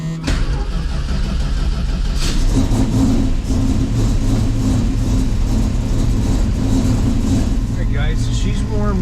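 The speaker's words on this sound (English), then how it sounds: "let's get her warmed up" A 1972 Plymouth Cuda engine running loud and close on a cold start, with a rough, throbbing, steady idle and a few small revs. Someone talks over it.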